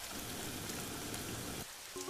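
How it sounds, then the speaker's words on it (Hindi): Heavy rain falls outside in a steady, dense hiss, with a brief dip near the end followed by a faint tonal beep. "बाहर काफी तेज बारिश हो रही होती है"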